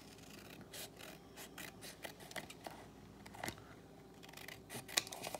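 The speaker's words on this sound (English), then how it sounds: "I'm just gonna roughly cut this out for now." Scissors snip roughly through paper in a quiet room, a run of close, crisp cuts at an uneven rhythm with faint rustling between.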